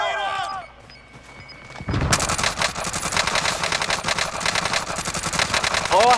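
Gunfire in Call of Duty: Modern Warfare: after a quieter start with voices, a loud burst of rapid automatic fire kicks in and keeps rattling to the end.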